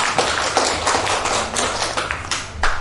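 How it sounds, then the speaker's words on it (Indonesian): Loose applause at a district education office discussion event in Bantul, with irregular claps and taps sounding fairly close, uneven and scattered rather than a dense roar. "Tepuk tangan ya."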